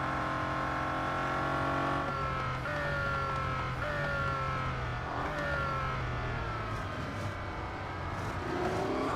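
Bugatti Centodieci racing in the game Real Racing 3: a steady high engine whine climbing through gears with repeated shift drops, loud and continuous, with no talk.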